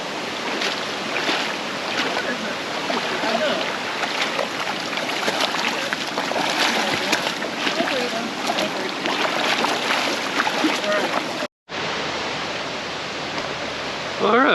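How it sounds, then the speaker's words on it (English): Wading across a knee-deep creek on the Twin Falls trail in the Ozarks: loud, steady rushing and splashing water fills the scene close by, with a brief break just before the end. "this is our first creek crossing"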